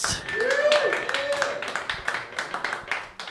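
An audience at a comedy open mic claps in a short burst of scattered hand claps that swell and then thin out, with a voice talking over it.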